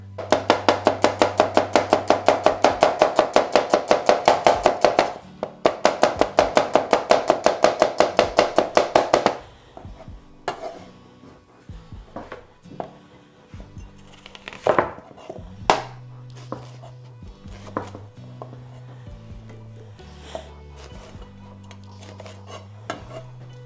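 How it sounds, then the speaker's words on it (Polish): Knife slicing two red onions into thin half-moon strips on a cutting board, a fast, even run of crisp chops up close, a short pause, another fast run, then slower scattered cuts and board knocks. "Wkroję dwie czerwone cebule. Kroję je w piórkach."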